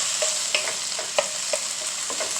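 Sofrito mixture being stirred in a hot pan for arroz con gandules, with a soft steady sizzle under irregular scraping strokes of the spoon, close and fairly quiet, no voices.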